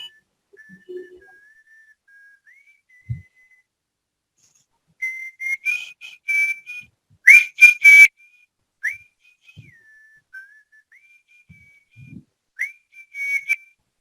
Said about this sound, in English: I like whistling.